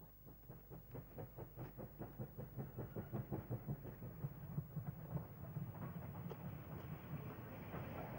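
A steam tank locomotive stands at Lydney Junction station preparing to depart, giving off a steady, rapid train of rhythmic chuffs or clanks over a low continuous rumble, fairly distant and even throughout.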